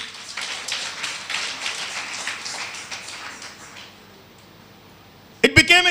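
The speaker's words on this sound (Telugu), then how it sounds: "ఇప్పుడు కొట్టరే చప్పట్లు." A church congregation clapping together in a steady patter that fades out after about four seconds, followed by a brief loud burst of sound at the end.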